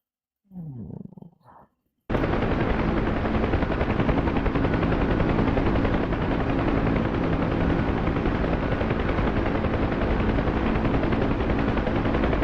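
A helicopter in a video game flight simulator, heard after a brief opening sound as an abrupt, loud, constant rotor and engine roar that holds steady to the end.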